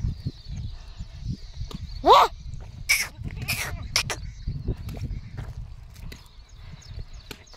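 Goats bleat on a farm, one clear, wavering bleat standing out amid scattered animal calls, shuffling and low rustling in the background.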